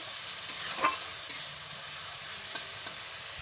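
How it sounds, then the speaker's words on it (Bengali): Water lily stems with shrimp stirred in a frying pan, a steady sizzle with a few scraping strokes of the spatula, close and alone. "তারপরে আবার ভালো করে নাড়িয়ে নিই"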